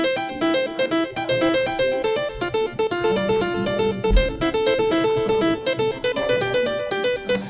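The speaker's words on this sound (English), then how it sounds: "And so now the piano is going to sound like this." Bright software piano plays rolling arpeggiated chords in a steady, continuous pattern, moderately loud with no voices.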